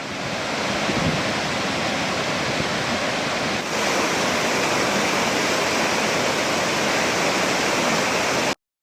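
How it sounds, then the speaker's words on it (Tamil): Flooded Varaha river rushing past, a loud, dense, unbroken roar of fast water that holds steady throughout before cutting off abruptly, with no voices. "வராக நதியில் வெள்ளப்பெருக்கு ஏற்பட்டுள்ளது"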